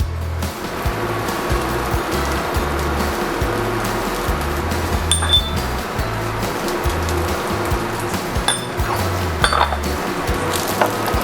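A utensil scrapes and clinks against a pan while bacon fried rice with butter and pepper is stirred, with repeated metallic scraping over a steady hiss and no talk.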